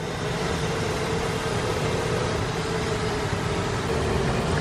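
Agitated bumble bees buzz inside an opened hive box in a hydroponic greenhouse, giving a steady, dense, close hum that continues without a break under a faint airy background.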